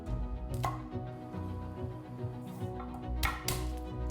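A knife chops green chilies into slanted pieces on a cutting board, giving a few sparse, close taps without any voice.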